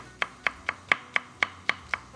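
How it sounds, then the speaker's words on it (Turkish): Peppers are chopped with a knife on a board in about nine crisp, evenly spaced strokes that land close and clear against a quiet background. "Şimdi ufak ufak biberimi ben şöyle bir doğrayacağım."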